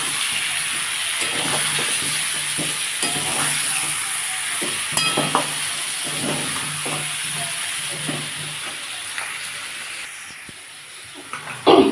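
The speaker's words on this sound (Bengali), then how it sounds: "এক চামচ দিলাম জিরে গুঁড়ো এক চামচ মতো দিলাম দিয়ে এটাকে ভালো করে এবার কষবো" Potatoes with chili and cumin powder sautéed in a wok for a Bengali vegetarian aloo dum, giving a continuous close sizzle with regular spatula scrapes and stirring strokes.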